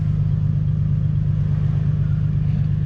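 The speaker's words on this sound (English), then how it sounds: "For more narrow vehicles like Griffin's 4Runner, driving through here, no big deal." A Toyota 4Runner on the rocky Rubicon off-road trail, its engine a loud, steady low rumble from inside the vehicle with no talk.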